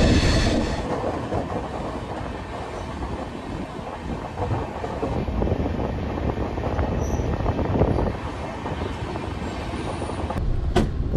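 The 22626 Bangalore-Chennai double-decker AC express at Bangalore Cantonment station: steady wheel rumble and rhythmic clickety-clack over rail joints, heard loud and close from on board, with brief brake squeals near the end.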